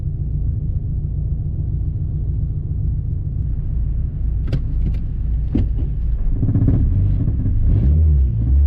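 An 8th-generation Honda Civic Si with a swapped K24a engine idling. It gives a steady, fairly quiet low rumble that holds level throughout, with a few light metallic clinks in the middle.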